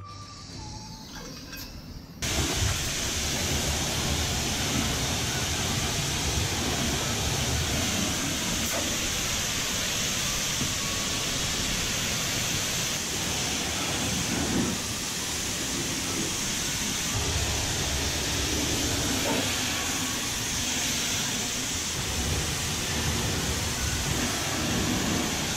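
Water spraying hard and steadily while washing the wheels of a brand new Mustang, a loud continuous hiss that starts abruptly after a quiet moment and runs on alone without talk.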